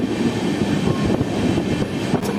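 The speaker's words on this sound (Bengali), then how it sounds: "আমাদের ট্রেন ক্রস করছে এখন আহমেদপুর জংশন রেলওয়ে স্টেশন" An Amrit Bharat train running through Ahmedpur Junction station, a loud continuous rumble and roar of wheels and carriages heard from on board, steady throughout with no voices.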